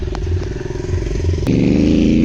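Motorcycle engine revving hard in full power mode during a track session, a loud, steady harmonic drone that jumps in pitch and intensity about halfway through, with a sharp click at the shift.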